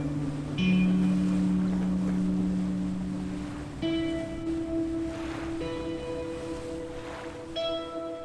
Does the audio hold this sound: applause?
no